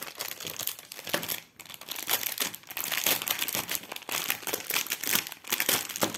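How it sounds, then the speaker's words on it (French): A small plastic pouch holding three craft clips for cross-stitch is torn and crinkled open, giving steady close crackling and rustling with brief pauses throughout. "On va ouvrir la petite pochette pour les voir de plus près."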